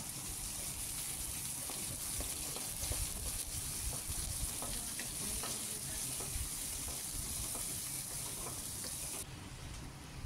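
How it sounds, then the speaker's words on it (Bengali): Spinach cooking in a pan with potato and eggplant gives a steady, close sizzle and frying hiss with scattered small pops and crackles, continuous throughout without talk. "আর এখানে পালং শাকটা রান্না করছি। এখানে একটা আলু আর বেগুন দিয়ে দিয়েছি"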